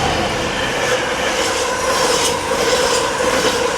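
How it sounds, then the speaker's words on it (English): Freight train passing over a bridge on a countryside river path walk, a loud, close, continuous rumble and rattling clatter of wagons sustained throughout before stopping abruptly. "And we do have a train coming, so I'm not under the bridge, it's a freight."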